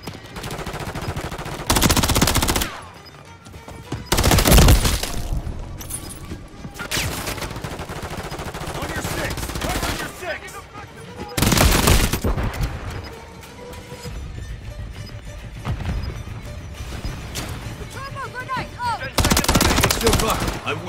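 Gunfire in Call of Duty MW3, a Kill Confirmed match on the Favela map: loud bursts of automatic fire alternating with quieter stretches of scattered shots and game effects, with no talk.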